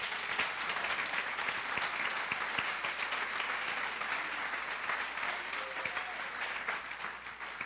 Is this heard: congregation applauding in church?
yes